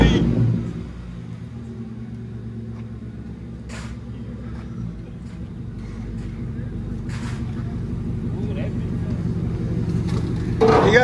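A 2003 Mercury Grand Marquis with true dual exhaust and straight pipes rumbles deeply at close range, its low drone swelling gradually with light revving.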